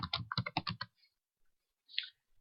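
A computer keyboard clicks in a quick burst of close keystrokes, then a short pause and one or two final taps, in a quiet room without talking.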